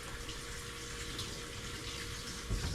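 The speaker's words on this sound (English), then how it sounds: "Let me get my hands washed a little bit." Tap water runs steadily in a kitchen sink while hands are washed, a constant close splashing rush with a brief louder splash at the end.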